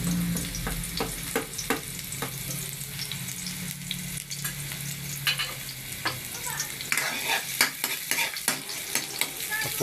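Garlic sautés in a pan, giving a continuous crackling sizzle broken by repeated scraping stirs, fairly close and moderately quiet, with no talking.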